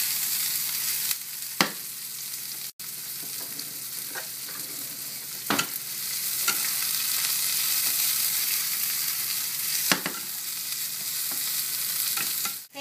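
Onions sizzle steadily in a hot pan, a constant bright frying hiss broken by a few scrapes and knocks as they are stirred.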